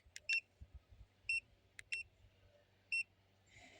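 Short electronic turn-signal reminder beeps from the handlebar indicators of a Sencor X20 chirp in an irregular pattern over a low idling hum, with faint clicks between them.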